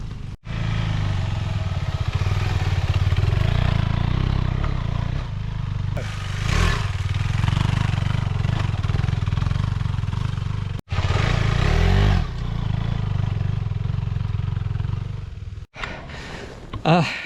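Adventure motorcycle climbing a hill with the clutch slipping, its engine droning loud and steady and close by for most of the stretch, broken by brief dropouts and some clatter.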